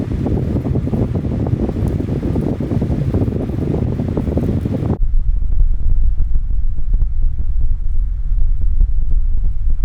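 A low, constant rumbling buffet of wind against a camera-mounted microphone, heavy at first, then abruptly dulled to a softer muffled throb once the mic is shielded.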